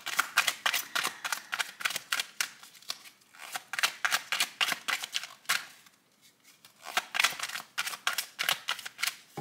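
Tarot cards are shuffled in rapid riffling bursts of crisp papery slaps, close up, with a brief pause midway before the shuffling resumes.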